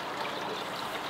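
Laundry clothes dunked into a basin of diluted soapy wash water at a camping or boondocking site, giving a brief, steady sloshing trickle of water with no voices.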